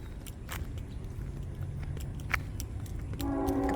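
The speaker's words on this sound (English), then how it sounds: "train coming down the train tracks." A train comes down the tracks in Chester, Virginia, with a steady rolling rumble that builds. A horn-like tone sounds near the end.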